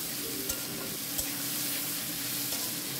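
Boiled potatoes and onion stalks are stirred into fried onions in a pan, giving a steady close sizzle with a few soft scraping knocks from the spoon and no voices.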